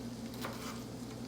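Chopped vegetables frying in oil in a pan give off a soft, continuous sizzle with faint crackle, steady and low in level with no talking.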